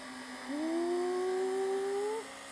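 A small electric motor of a Work Sharp knife sharpener whirs up to a steady high-pitched hum for about two seconds, then winds down, with no talking.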